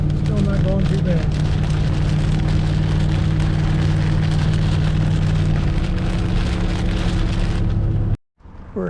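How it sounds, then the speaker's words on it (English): Steady rain drums on a moving vehicle driving in western Pennsylvania under a constant low engine and road hum, ending in an abrupt cut. "Running into a little bit of rain here in western Pennsylvania."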